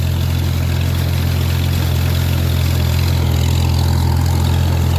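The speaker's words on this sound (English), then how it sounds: "I think it's a John Deere 6125R. It's a pretty good sized tractor, actually." A John Deere 6125R tractor engine runs steadily with a deep, constant rumble and broad noisy hiss, loud and close, with no talking.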